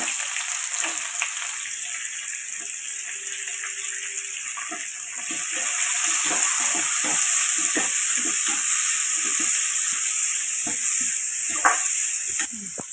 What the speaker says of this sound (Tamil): வெங்காயத்தை போட்டு வதக்கணும்